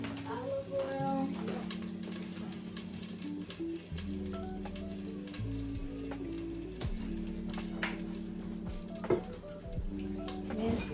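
Olive oil sizzles steadily in a soup pot after browned chicken, a continuous close frying hiss with faint stirring clatter and a low background hum.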